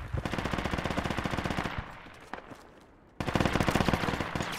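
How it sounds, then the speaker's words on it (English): Rapid bursts of machine gun fire in the military shooter Project Reality, loud and close, two long rattling volleys with a quieter gap of scattered distant shots between them. "Two machine guns!"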